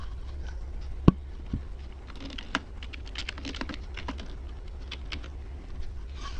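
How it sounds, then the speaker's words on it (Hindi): Typing on a computer keyboard while entering text into an Excel sheet, with quiet, irregular key clicks and one sharper tap near the start, against a steady low hum. "यहाँ पर टाइप कर दीजिए।"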